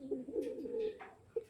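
Pigeons kept in a loft for breeding coo softly at close range, a few throaty, rolling calls overlapping with light wing and shuffling sounds, with no talk over them.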